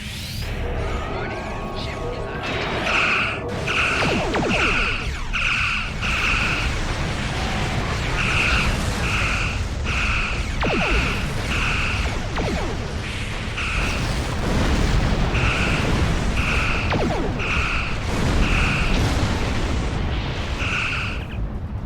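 Starship weapons fire and explosions in a Star Trek Online space battle against Klingon vessels: a constant rumbling roar with rapid repeated bright blasts in regular bursts throughout, loud and dense.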